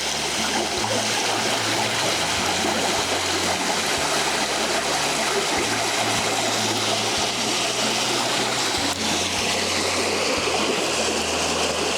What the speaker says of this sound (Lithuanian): Kelyje link restorano tas upelis randas ir jau iš toli girdisi jo ošimas.